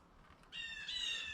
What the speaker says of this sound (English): there's all sorts of blue jays and crows